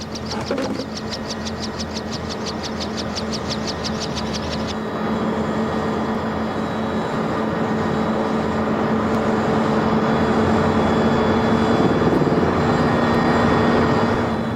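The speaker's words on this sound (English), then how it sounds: "whether the chopper will be able to lift off with this heavy load of munitions or not" Steady, loud mechanical engine roar of a heavily loaded South African Air Force military helicopter, with a rapid rhythmic chopping layered on top at first, continuing as a constant drone without voices.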